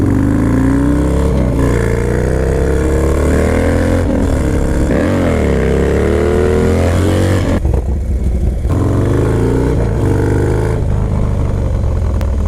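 A Harley-Davidson Low Rider S FXDLS motorcycle under way, its loud engine note rising and falling through several gear changes, with a brief drop in revs midway before pulling again.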